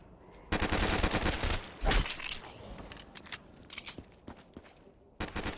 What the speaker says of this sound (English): use a full mag of the starter pistol and then knife the zombies